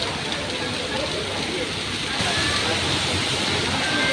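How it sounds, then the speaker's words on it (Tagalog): Steady, dense rushing noise of heavy rain near an MRT station, continuous and fairly loud throughout, with a slight swell partway through. "ang lakas kasi ng ulan"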